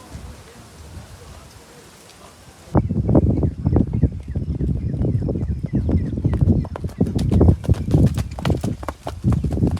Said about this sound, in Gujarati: ઘોડો પણ બહુ સારો હાલે છે.